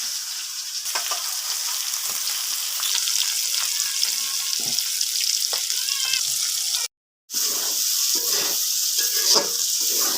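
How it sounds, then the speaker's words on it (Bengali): Green chilies and onions frying in a pan for taro cooked with tengra fish heads, a steady loud sizzle with light stirring scrapes and one brief cut-out partway through. "কাঁচামরিচ আর পেঁয়াজ একসাথে দিয়ে দিচ্ছি।"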